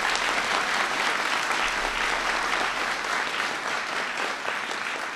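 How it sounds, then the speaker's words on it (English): Audience at a White House science fair clapping for teachers, dense continuous applause from a large crowd filling the room, sustained and even throughout. "So give teachers a big round of applause."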